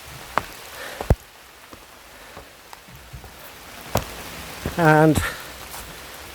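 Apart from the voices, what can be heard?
heavy rain pouring down in a Lake District wood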